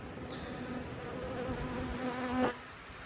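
Honeybees buzz on a brood-filled hive frame during a queenless-hive inspection, a close, steady drone with a couple of louder passes near the end and no talk.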